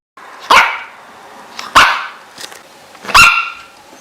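A dog barks three sharp, loud times at roughly one-second intervals, close by, with a softer yip between the second and third barks and quiet pauses around them; no speech.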